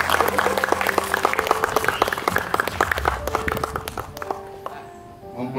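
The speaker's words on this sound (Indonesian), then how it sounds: "Silakan tepuk tangan supaya tidak ragu-ragu." Guests at a wedding blessing ceremony applaud in a lively burst of close, crisp claps while organ or keyboard tones sound underneath, the clapping thinning and fading toward the end.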